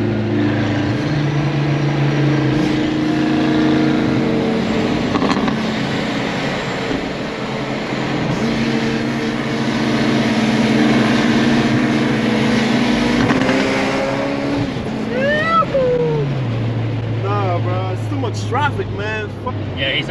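A car pulling hard in third gear on E85 fuel, its engine note climbing steadily and loudly for a long stretch before easing off and settling into lower tones, with a voice talking over the engine.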